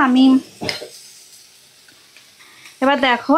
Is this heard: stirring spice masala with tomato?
yes